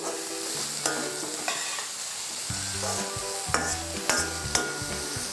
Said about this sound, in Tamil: இது எல்லாமே நல்லா காய்கறி வதங்கணும்